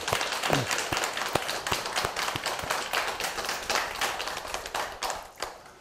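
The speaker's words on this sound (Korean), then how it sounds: "2025년 어린이날을 축하하는 큰 박수 한 번 더 부탁합니다" An audience at a Buddha's Birthday temple service coinciding with Children's Day claps at moderate volume, with distinct, somewhat sparse hand claps and a few sharper individual slaps through the stretch.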